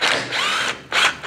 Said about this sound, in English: let's use the 3/8 and take out these valve cover gasket bolts